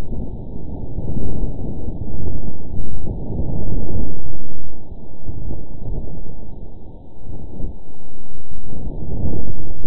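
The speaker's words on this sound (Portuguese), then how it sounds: "Aqui está a pressão do ar mudando conforme o vento sopra pela sonda." Martian wind buffeting the InSight lander, captured as air-pressure changes and sped up 100 times, giving a continuous low, rumbling roar that swells and dips in loud gusts with no voices present.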